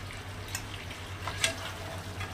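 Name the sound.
fried chicken added to pan and stir-fried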